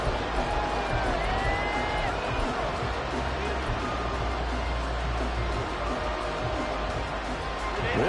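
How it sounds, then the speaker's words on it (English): Stadium crowd in the Madden football video game during a third-and-long play, a steady, dense roar of cheering that holds loud and unbroken throughout. "This crowd turning up the decibel level."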